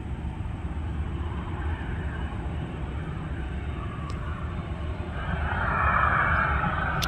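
An airplane at Minneapolis/St. Paul airport gives a continuous broad roar and rumble that swells slightly louder toward the end, heard from outside on the ground.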